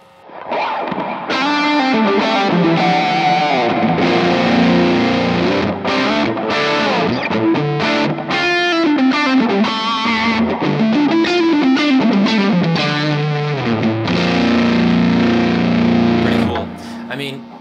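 Heavily overdriven electric guitar through a cranked Hot Cake overdrive pedal plays busy, loud riffs with a thick, fuzzy, saturated tone, continuous and close, no talking.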